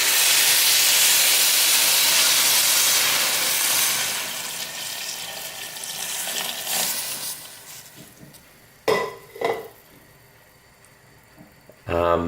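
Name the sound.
water added to a hot pan, hissing and steaming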